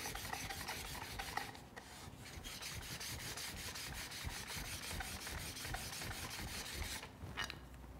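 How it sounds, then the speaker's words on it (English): Steel card scraper being sharpened to turn a burr for woodworking, a continuous rhythmic rasping and rubbing of metal strokes, close and steady throughout, with a brief lull near the end. "When you sharpen a scraper, the center is gonna be the last place that you really end up turning a burr"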